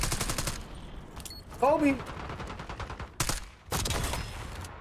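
Bursts of Jackal PDW submachine gun fire in Black Ops 6 rattle out in rapid strings, several short volleys separated by pauses, with a player's voice talking between them.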